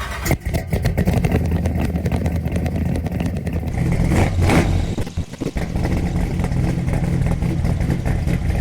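A big-block 454 V8 engine runs loud and close, rumbling steadily with a couple of revs rising and falling midway, no talking.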